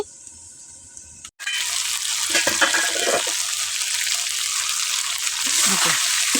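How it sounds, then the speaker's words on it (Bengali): Cauliflower fries in a pan with a steady, loud broadband sizzle that starts abruptly after a brief quiet moment and holds on, with faint clatter underneath. "ফুলকপি ভাজা হয়ে গেছে।"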